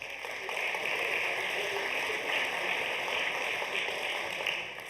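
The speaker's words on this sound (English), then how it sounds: "let's give a round of applause for the whole CTGS organizing team" Applause from a conference audience for the organizing team, a steady, fairly faint wash of clapping lasting several seconds with no one speaking over it.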